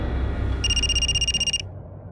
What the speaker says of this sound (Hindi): सर, दिल्ली से पीएसआई तोमर का फोन